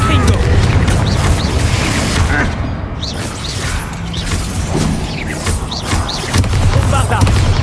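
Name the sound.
Confringo spell explosion in a video game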